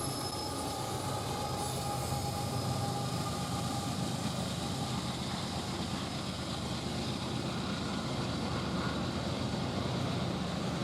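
A CSX freight train, southbound M585, rolls by steadily with a CSX heritage unit locomotive painted for the Baltimore and Ohio second out, giving a continuous broadband rumble of engines and wagons with faint wheel squeal, loud and unbroken throughout.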